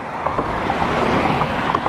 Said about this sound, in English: the water's moving. It's pretty choppy.